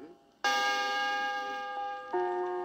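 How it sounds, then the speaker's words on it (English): A bright page-turn chime from a 1979 Kid Stuff read-along book record rings out, then a second chime tone follows and sustains with long ringing overtones, clear and alone. "Every time you hear this chime"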